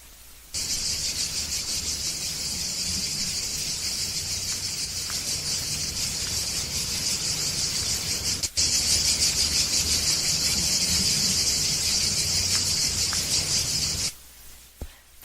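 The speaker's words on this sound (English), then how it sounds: "That is the cicada, the cicada." Cicadas in Italy sing in a loud, unbroken high-pitched buzz that drones on for about fourteen seconds, briefly swelling louder partway through, then cuts off abruptly.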